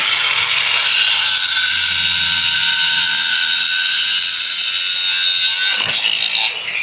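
A Millner Tool cutting wheel slicing through threaded rod or rebar at a trade expo booth, a loud continuous high grinding whine that holds steady before tapering off at the end.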